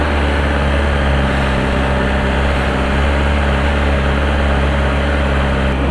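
A 2025 BMW S1000RR superbike engine running steadily and loudly up close, a constant droning idle with no talk over it.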